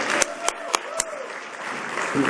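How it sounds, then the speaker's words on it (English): An audience at a talk gives a few scattered claps that fade into a soft murmur. A voice is heard over them. "let's give her a round of applause"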